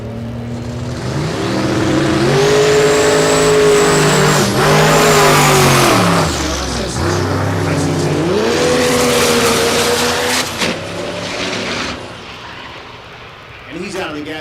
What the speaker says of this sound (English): Jason Pickett, who's in the burnout box, in third place